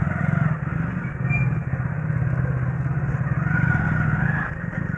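A motorcycle engine idles just after a self-start, heard up close as a steady low throbbing rumble with a slight mechanical clatter that holds even for the whole stretch, with no one talking.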